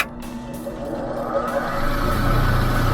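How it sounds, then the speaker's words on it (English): A bench grinder winds up toward full speed before a bowl gouge is sharpened, its motor hum building steadily and growing louder over a few seconds with no talk. "So just let the grinder get up to speed,"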